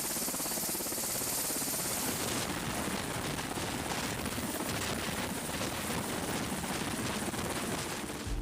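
A helicopter landing on an aircraft carrier deck makes a steady, dense rotor and engine roar that holds evenly throughout at a fairly low level.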